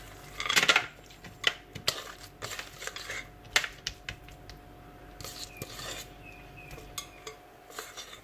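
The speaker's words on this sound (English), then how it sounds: "Now it's time to spoon the brownie mixture into your baking tin." A spoon scoops thick gluten-free chocolate brownie mixture into a baking tin, making soft scattered clinks and scrapes against the bowl and tin, quiet and close, with no talk.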